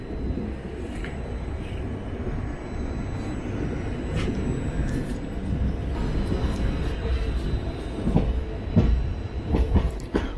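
A passenger train, the Velankanni–Ernakulam biweekly express, rolls into Kottayam station's yard, giving a steady loud rumble of wheels on rails with faint clatter and a brief squeal near the end. No one speaks.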